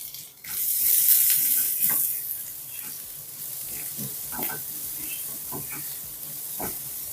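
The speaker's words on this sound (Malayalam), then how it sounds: "നമ്മുടെ സവോളയൊക്കെ നന്നായിട്ട് സോട്ടായിട്ടുണ്ട്." Chopped onions sizzling in a hot pan for a butter garlic salmon dish, a steady close hiss with scattered crackles and pops running throughout.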